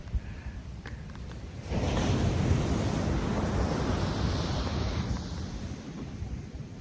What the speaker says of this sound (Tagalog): medyo malakas ang alon niya